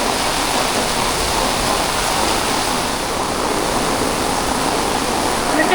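Athirappilly waterfall in Kerala roars under heavy rain as a loud, dense, unbroken wash of noise that fills the whole clip with no pauses.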